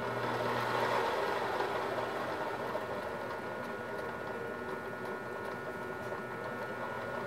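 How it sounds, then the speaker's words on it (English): A saw cuts slowly through steel with a steady, grinding drone and a faint rhythmic chatter underneath, continuous and moderately loud throughout. "line up the saw, and cut through this side"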